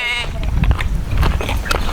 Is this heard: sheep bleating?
yes